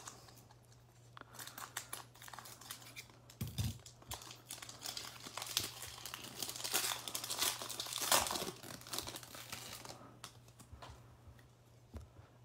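Topps baseball card packs are torn open close up, with crinkling foil wrappers, sharp tearing pulls and rustling handling in irregular bursts over low background hum.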